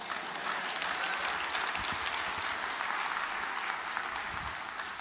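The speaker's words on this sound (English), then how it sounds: "Now, the way you're clapping, I'm quite sure if I said for more money, you'd have clapped much better than that." A church congregation claps throughout a sermon, a steady, even wash of applause at moderate distance that continues without letting up.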